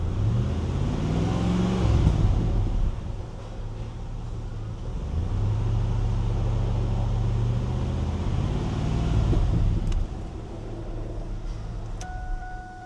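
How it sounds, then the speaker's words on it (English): A Chevrolet Camaro engine revs up and down several times, rising harmonic whine with throttle blips, loud and close, then settling toward idle near the end. "Now let's see what it does when I give it some throttle."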